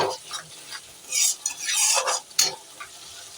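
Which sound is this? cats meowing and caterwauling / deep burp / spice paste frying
spice paste frying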